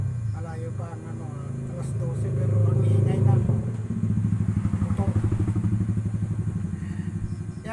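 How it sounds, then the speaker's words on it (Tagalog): A voice talks briefly, then a loud motorcycle with its muffler removed idles and revs nearby with a rapid, harsh popping rattle. "Natanggal nila yung muffler ng motor. Kaya ang ingay niyan"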